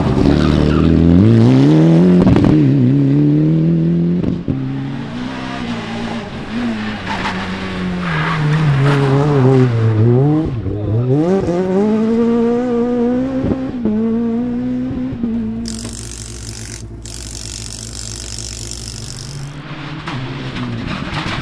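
A rally car on a special stage of the Boucles de Seine rally near Pont-Audemer roars through the gears from inside, engine pitch climbing and dropping repeatedly with loud revving, brief tyre squeals and shifts throughout.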